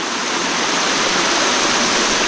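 A rain-swollen natural stream in a Konkan village rushes steadily, a loud, close, unbroken roar of flowing water with no voices.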